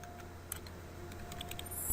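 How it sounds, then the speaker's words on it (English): Keys tap quietly on a computer keyboard as commands are entered to configure a Cisco ASA 5510 firewall, a few faint, sparse clicks close by over low room hum. "we're going to type in config and type"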